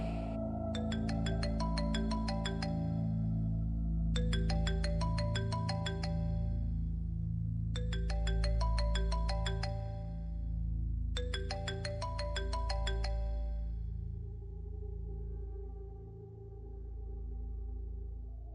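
A phone rings after a number is dialed, sounding as a clear electronic ringtone melody repeated in four even bursts with short pauses between, steady and moderately quiet over a low background hum.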